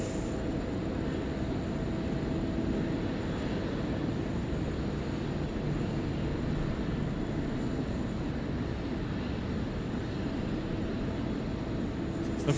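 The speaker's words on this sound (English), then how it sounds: "Look at all the aircraft here." Airliners at Sydney Airport produce a steady, broad roar of jet engine noise that holds at a constant level, with no voices over it.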